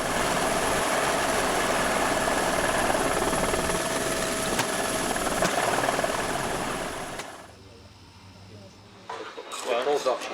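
A helicopter flying over a night film shoot, a loud, continuous rotor and engine roar that cuts off abruptly near the end, followed by people talking nearby.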